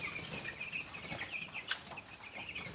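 Broiler and improved Kienyeji chicks at day 16 on a poultry farm in Kenya, cheeping in repeated faint high chirps over a soft background hiss, no talking.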